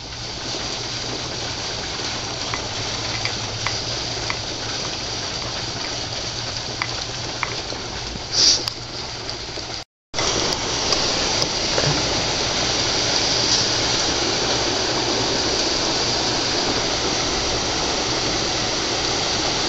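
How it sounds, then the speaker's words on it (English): Heavy rain pours steadily over a hospital roof, a dense continuous roar of falling water that stays loud throughout, broken only by a brief dropout midway, with no talking. "Okay, it's pouring now"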